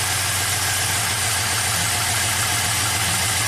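A Pontiac GTO V8 idles roughly with a misfire from an unplugged fuel injector, a steady loud uneven rumble with a pulsing low throb, close and without voices.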